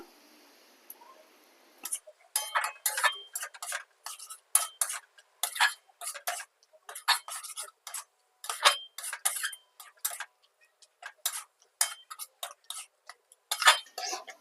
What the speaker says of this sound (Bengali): দিয়ে ভালো করে একটু নেড়ে নিতে হবে